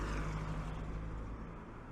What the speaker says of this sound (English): Traffic is still there